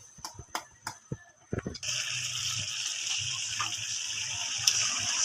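A few knocks and clatters, then a continuous rushing, bubbling sound of water boiling in a cooking pot with chayote and pork belly, holding steady and close until the end.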